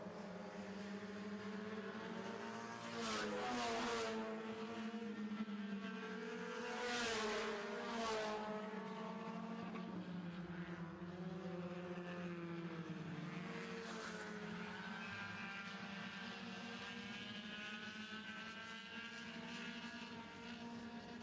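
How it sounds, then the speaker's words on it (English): Four-cylinder stock race cars scream down the back straightaway of an oval track, several engines rising and falling in pitch as they pass in a close pack, loud and unbroken, with no talk. "Here comes the 71 on the outside of the 91 now as they race down the back straightaway."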